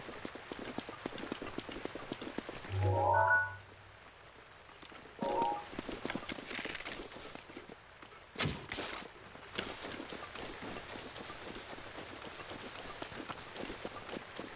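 Horse hooves clip-clop at a steady running rhythm in Zelda: Breath of the Wild, continuing throughout alongside other soft in-game sounds and a few brief louder effects.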